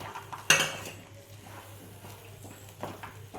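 A spoon stirs kesari with roasted cashews and raisins in a pan, opening with one sharp metallic clink against the pan, then soft scraping and light clatter at moderate level, with a faint low hum throughout.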